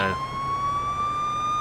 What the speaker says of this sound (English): We've lost a couple of points there because the sirens are on for no reason